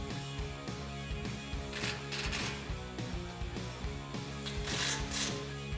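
A socket wrench ratchets in quick clicking bursts while bolts are tightened on a RedRock 4x4 3-inch bull bar with skid plate being mounted to a 2018-2019 Jeep Wrangler JL, heard under steady background music.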